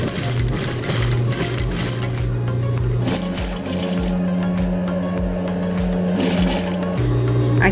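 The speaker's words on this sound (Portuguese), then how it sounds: "Tô fazendo a costurinha aqui com o pé de máquina." A sewing machine with a presser foot stitches a hidden zipper into a lab coat, running steadily and close with a continuous mechanical whir and brief pauses, heard alone without talk.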